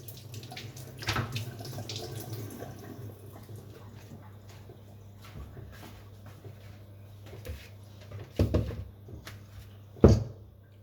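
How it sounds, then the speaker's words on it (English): A kitchen tap runs while hands are washed at the sink during baking, a quiet steady water flow under a low hum, broken by a few louder clunks and splashes near the end. "she's got to wash her hands"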